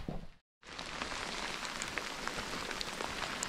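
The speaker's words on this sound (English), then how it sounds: "yeah, this is some real deal rain." Heavy rain drumming on a tent on the Colorado Trail, a dense, steady hiss of close raindrops after a brief silent gap at the start.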